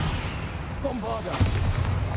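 A Bombarda spell blasts off in Hogwarts Legacy, a deep booming burst partway through, layered with crackling magical effects and low rumble beneath a voice that speaks over the whole spell.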